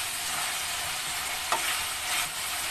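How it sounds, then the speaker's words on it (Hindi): Chopped tomatoes fry with minced mutton over medium heat, making a steady close sizzle with one brief scrape of stirring partway through, and no voices present. "टमाटर को भी अच्छे से इसके साथ भून लेंगे कि पूरे टमाटर इसमें घुल से जाए"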